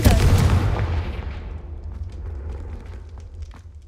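A Confringo blasting spell in Hogwarts Legacy erupts as one loud, booming explosion at onset, its rumbling tail slowly fading over several seconds with faint scattered crackles.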